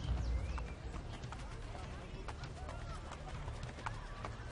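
Horse hooves from the video game Assassin's Creed Brotherhood, a quick running clip-clop rhythm repeating steadily throughout, with a murmur of voices and game ambience beneath.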